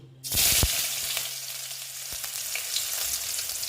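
Onions hit hot oil in a pan with small tengra fish and start sizzling loudly, a sharp burst followed by a steady crackling fry with a few clinks, no talking.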